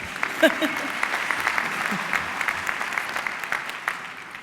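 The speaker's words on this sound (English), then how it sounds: "Do you want to have a second hand clap?" An audience at a university graduation ceremony claps steadily for several seconds, a dense patter of many hands at moderate distance, with a voice briefly audible at the start.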